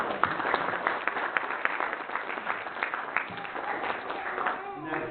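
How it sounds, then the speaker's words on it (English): A room of park volunteers at a city celebration breaks into sustained applause, dense overlapping hand claps filling the space at moderate loudness, with some voices mixed in. "I'd like you to give yourselves a round of applause"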